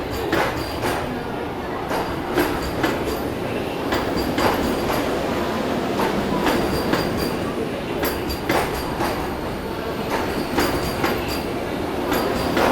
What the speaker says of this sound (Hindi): लगभग आधे घंटे की देरी से ये आ गई चंडीगढ़ अजमेर वंदे भारत एक्सप्रेस